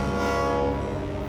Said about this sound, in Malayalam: നോക്ക്, ട്രെയിൻ വരുന്നുണ്ട്.